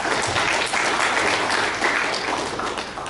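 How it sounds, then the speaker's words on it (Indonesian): Dense, steady applause fills a hall at a law faculty graduation ceremony at Universitas Gorontalo, many hands clapping at once, loud and continuous with no talk over it. "Tepuk tangan ke Fakultas Hukum."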